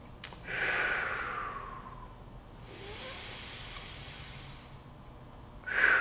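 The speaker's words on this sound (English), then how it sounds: "Sniffing air in through your nose to activate the diaphragm." Slow, airy breaths drawn in through the nose, with a long hissing inhale, a quieter stretch, then another sharp intake at the end.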